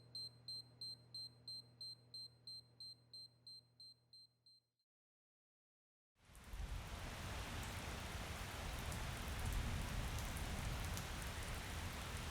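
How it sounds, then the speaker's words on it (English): Steady heavy rain pours down as an audiobook sound effect, loud and continuous, coming in after a stretch of repeated electronic beeps over a low hum and a brief silence. "The rain was coming down harder once we got outside"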